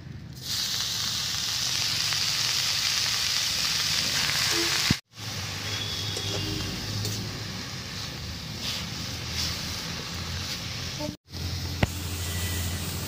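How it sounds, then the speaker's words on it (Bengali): Pumpkin flowers sizzle and fry in hot oil in a pan, a steady close hiss that carries on for the whole stretch, broken by two short cuts. "এবার বাটার জন্য কিছুটা কুমড়ো ফুল ভেজে নেব।"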